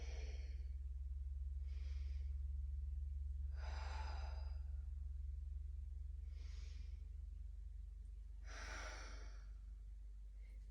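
Breathing during a hip-opening yoga sequence: a handful of soft, airy exhales and inhales spaced a couple of seconds apart, fairly faint and close, over a steady low hum, with no talking.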